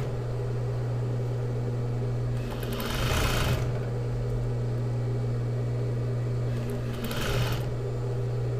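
A sewing machine stitches a latex cuff onto the end of a sleeve, running in two short bursts of rapid stitching over a steady background hum.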